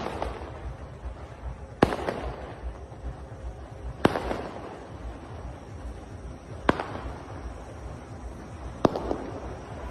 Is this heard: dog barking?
no